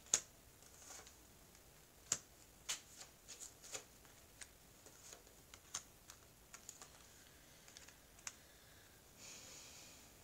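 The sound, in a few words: tarot cards being spread out on a table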